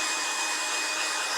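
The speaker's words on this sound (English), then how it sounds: "So the hairdryer makes sure of that." Hairdryer blowing on an ink drawing to dry it, a steady close whooshing roar held without change.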